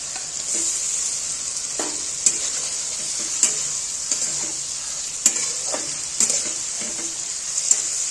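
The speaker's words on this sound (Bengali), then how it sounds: "এবার এর মধ্যে এই যে ভেজে রাখা যে বেগুনগুলো এইগুলো ছেড়ে দেব" Fried eggplant being stirred into a prawn korma in a pan, a strong steady sizzle punctuated by regular spoon knocks and scrapes against the pan.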